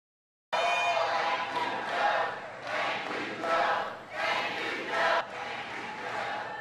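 A cheering crowd at a Joe Biden speech: after a moment of silence, loud, sustained cheers and shouts rise and swell in waves from a large audience.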